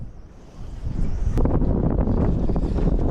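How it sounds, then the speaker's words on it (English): Strong wind buffets a boat out on a lake during a fishing trip. It starts fairly quiet, then swells into loud, steady roaring gusts hitting the microphone. "We're having to battle out this terrible wind"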